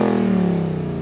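A 2021 Ford Mustang Mach 1 exhaust heard from outside, a loud close engine drone with a steady, slightly falling pitch over one brief second, no voices.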